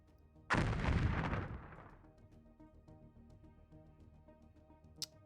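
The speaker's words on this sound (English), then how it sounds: "And the Tholian vessel explodes in a violent explosion of antimatter." Sound effect of a Tholian vessel blowing apart in an antimatter explosion during a Star Trek tabletop game: one sudden loud, heavy boom that rumbles and decays over about a second and a half, alone with no talk.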